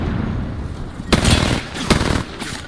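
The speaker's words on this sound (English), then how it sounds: "The enemies are shooting at me." Enemy gunfire aimed at the player in Apex Legends, sharp bursts of shots cracking over a constant loud rumble of battle noise, two clusters standing out in the middle.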